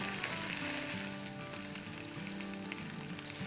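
Tandoori chicken sizzling loudly in a pan as it is stirred and mixed after barbecuing over charcoal, a steady dense hiss with soft scraping movements underneath and no talking.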